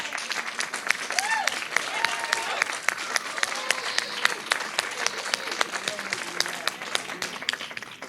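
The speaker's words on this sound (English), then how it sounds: "Let's give him a clap and a stand for him" A church audience claps and rises for a standing ovation, dense rapid clapping from many hands sustained throughout, with cheering and voices mixed into the crowd noise.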